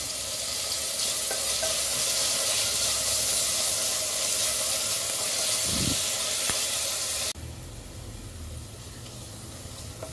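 Onions with salt frying in a pan for a tamarind-leaf mutton curry, a steady close sizzle and hiss with a faint stir, the sizzle dropping noticeably quieter near the end.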